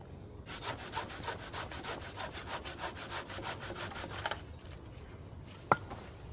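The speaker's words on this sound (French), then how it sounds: "De la petite scie à bûche" A small log saw, 37 cm, cuts through wood in steady back-and-forth strokes for about four seconds, then stops; a brief sharp knock follows near the end.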